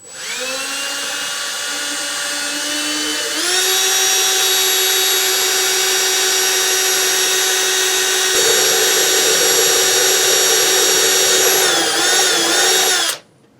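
Power drill boring a hole with a 3/8 inch bit in wood, a loud, steady motor whine that steps up in pitch as it bites, holds high, wavers near the end and then stops abruptly.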